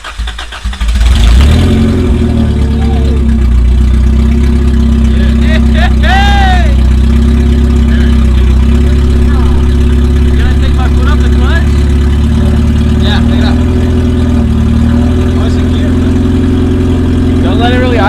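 An engine starts and then revs steadily, held at raised revs rather than left to idle. It is loud and close throughout, with a few brief squeaks over the running engine and people talking nearby.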